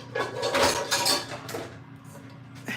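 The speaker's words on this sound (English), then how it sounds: "And we're about to use this frying pan." Pots and a frying pan clatter and clink on a home stove while dinner is cooked, with several sharp metallic knocks and scrapes early on, then quieter handling and a final clink.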